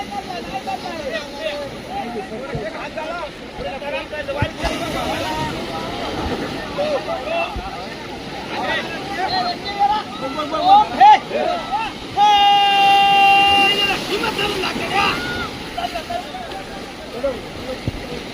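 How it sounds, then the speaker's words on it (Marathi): A crowd hauls a boat up by hand at a rapan fishing festival on the shore, with steady outdoor wind and water noise, busy voices talking throughout, and a brief tonal whistle-like sound midway. "मागे आता ओढायला सगळे उतरून आता होडी वरती ओढायला लागले ताकदीने"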